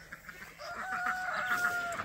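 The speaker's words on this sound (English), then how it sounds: "What's my chicken army doing?" Chickens cluck and call softly near a barnyard at breakfast feeding time, with a few short clucks and a drawn-out vocalization, fairly faint and with no talk.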